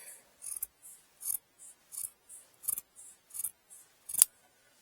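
Scissors snip repeatedly through the finishing piece of a dish drying mat being sewn into a pouch, about a dozen crisp, evenly spaced cuts close by, ending on one sharper, louder snip.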